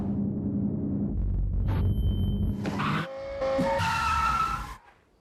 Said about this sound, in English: This is the not-for-sale Kia Forte drift car with a blistering top speed and excessive amount of horsepower